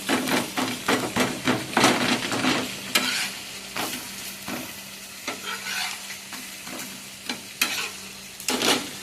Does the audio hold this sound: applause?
no